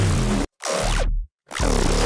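Deep electronic bass one-shot from a track, played as three loud, heavy hits separated by short silences, with a growling, distorted tone and no voices.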